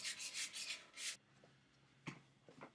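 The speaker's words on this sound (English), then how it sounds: "So just a little bit of sanding." Hand sanding of a wooden wand: a run of several rhythmic, close rasping strokes for about a second, then quiet with a couple of light scrapes and taps.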